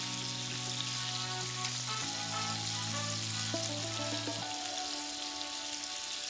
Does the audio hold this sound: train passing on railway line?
no